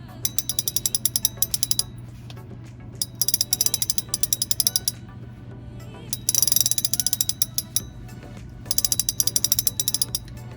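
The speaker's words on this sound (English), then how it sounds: "Now, let's check the drag sound." A 2024 Daiwa Luvias spinning reel's drag clicks in four rapid ratcheting bursts separated by short pauses, crisp, loud and resonant, close.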